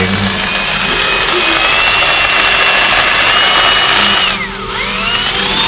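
Power drill bores into floor tiles for termite treatment, a loud continuous high whine that holds steady, then briefly dips and rises again near the end.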